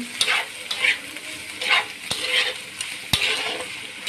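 Onion and carrot sizzle steadily in a hot pan while a utensil stirs and scrapes, with a few sharp taps against the metal.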